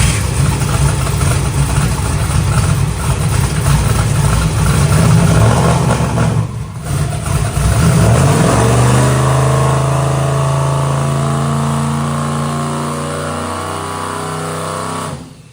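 A twin-turbo NASCAR truck engine roars at sustained high revs on a dyno, loud and continuous, then drops to a lower steady drone that slowly fades as it winds down.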